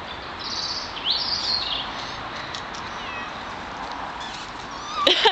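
Cat meowing outdoors during an Easter egg hunt, a couple of high, drawn-out meows early on, fairly close, with a brief clatter near the end.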